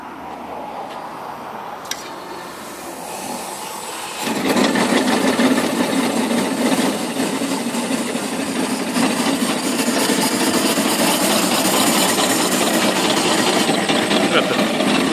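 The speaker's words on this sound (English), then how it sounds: "So I'm going to run the engine and haul in this log that I've got down here." A steam donkey logging engine hauling in a log, first a quieter hiss, then a loud steady mechanical rumble and clatter that holds up close and unbroken for the rest of the span.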